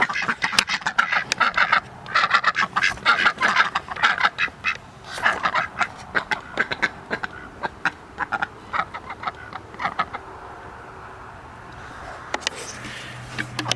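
A group of ducks quacks in busy, overlapping bursts nearby, thinning to scattered calls toward the end.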